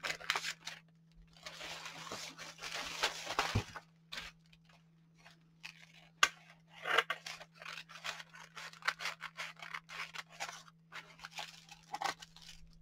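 Scissors trimming Pellon 805 Wonder Under fusible web ironed onto a backing, with close, crisp snipping and crunchy cutting strokes in uneven bursts over a low steady hum.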